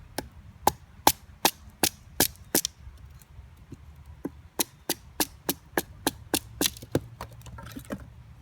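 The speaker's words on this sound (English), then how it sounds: "First, I actually want to split this big piece of wood down." Sharp, regular knocks as a Bark River Dakkar knife is batoned down through a big piece of wood, about twenty loud, close strikes in a steady rhythm with a brief pause midway.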